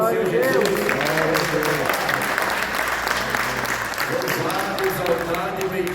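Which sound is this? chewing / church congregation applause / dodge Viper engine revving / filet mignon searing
church congregation applause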